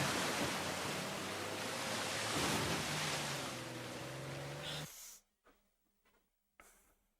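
Rushing waterfall in the video game Uncharted 4, a loud steady roar with tonal hum underneath, cutting off abruptly to near silence broken by brief bursts.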